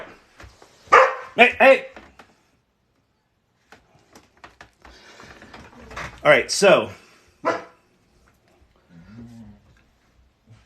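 A dog barks in a few loud, close bursts with gaps between them, plus a faint whimper near the end, and a person speaks briefly nearby.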